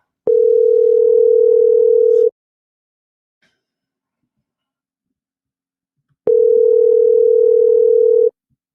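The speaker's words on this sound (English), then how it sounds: "Dialing." A steady telephone ringback tone on a live call-in show sounds twice. Each is a loud, even two-second hum, with a silent pause of about four seconds between them.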